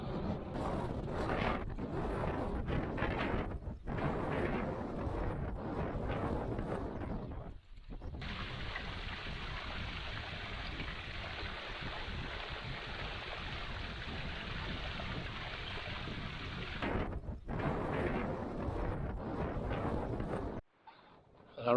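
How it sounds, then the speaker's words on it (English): Strong 50-mile-an-hour mountain wind roars and buffets a microphone on a Scottish Munro summit, with sustained loud rushing gusts and brief lulls. "hopefully a wee bit sheltered from these 50-mile-an-hour winds"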